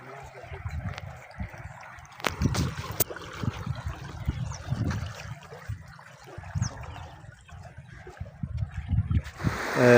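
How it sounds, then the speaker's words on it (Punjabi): Ravi river floodwater rushes over paddy fields in a village, making a continuous near wash and gurgle of flowing water, with someone talking over it in bursts throughout. "ਇੱਥੇ ਪਾਣੀ ਦੀ ਆਵਾਜ਼ ਵੀ ਤੁਸੀਂ ਸੁਣਦੇ ਪਏ ਨੇ ਇੱਥੇ ਪਾਣੀ ਕੜਕ ਕੇ ਥੱਲੇ ਲਾਂਦਾ ਪਿਆ"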